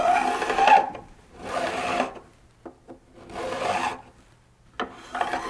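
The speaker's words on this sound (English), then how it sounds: "There's a distinctive sound when a file is working on metal." A metal file rasps on guitar fret ends in repeated back-and-forth strokes, bright and scratchy, each stroke about a second long with short pauses between.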